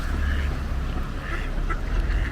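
Ducks quack repeatedly at an English village duck pond in Finchingfield, over a steady outdoor rumble. The calls are moderately near and overlap one another.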